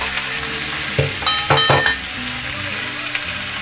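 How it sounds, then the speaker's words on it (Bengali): Onion and tomato sizzle steadily in a frying pan while a utensil stirs, with a brief cluster of metallic clinks against the pan partway through. "চলো পেঁয়াজ আর টমেটো দিয়ে ভাজা ভাজা করি"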